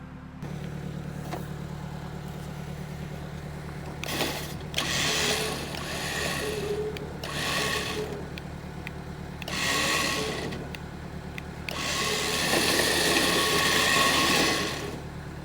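A winch hauls a rusty 1957 Plymouth two-door hardtop up onto wooden boards, a steady low motor drone running throughout with repeated louder bursts of grinding, creaking strain as the car moves.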